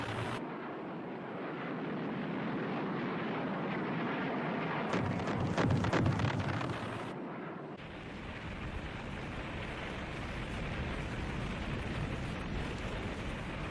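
Ferocious aerial bombing of Operation Linebacker over North Vietnam, with a dense, continuous roar of aircraft and explosions, swelling into a louder burst of blasts midway before settling back into a sustained rumbling din.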